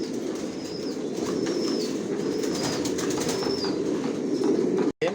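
Johnson-line racer pigeons in a loft make steady rustling and wing flapping, with soft coos and calls repeating in the background and one brief cutout near the end.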